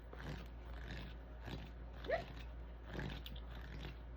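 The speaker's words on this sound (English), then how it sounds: "My dog is dreaming." A sleeping dog dreaming gives faint, muffled whimpering grunts in a few soft bursts over a low steady background hum, with no talk.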